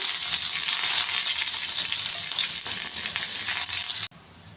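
Curry leaves and garlic dropped into hot oil for tempering give off a loud, steady, close sizzle that cuts off abruptly near the end.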